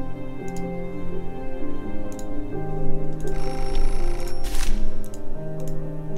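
A telephone rings in the apartment-management game Beholder, with repeated short ring bursts over a steady, dense layer of game music.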